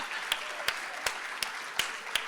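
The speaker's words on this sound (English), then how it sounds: "And now another round of applause for the 1999 State Championship Cross Country team." At an awards and athletic hall of fame event, a modest, fairly distant crowd applauds the 1999 state championship cross country team, with a few sharp, evenly spaced claps standing out close by.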